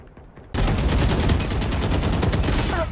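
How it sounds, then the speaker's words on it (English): Rapid gunfire from a deathmatch video game, a steady stream of closely spaced shots that begins abruptly and holds loud and continuous to the end. "my shots were impeccable"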